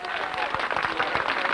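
A crowd applauds the French senior cyclo-cross champion at a podium ceremony in Lacenas, a brief, dense burst of clapping heard outdoors under an announcer's voice.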